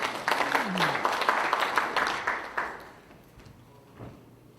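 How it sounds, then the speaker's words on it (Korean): Applause from attendees at a Korean political party training event for local government heads, steady clapping for a few seconds that fades out, leaving quiet room sound and a faint knock. "박수로 맞아주시기 바랍니다"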